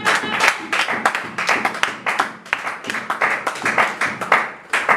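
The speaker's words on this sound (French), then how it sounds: "On acclame encore une fois de plus notre Seigneur." A church congregation claps and applauds in praise, a dense run of rapid, uneven handclaps from many people close by, swelling and dipping in waves for several seconds with faint voices beneath.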